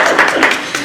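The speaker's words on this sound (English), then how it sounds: "Can we just give a mini applause for de-stress?" A small audience gives a quick burst of clapping at a relaxation gathering, brief and close, with a few uneven claps over under a second.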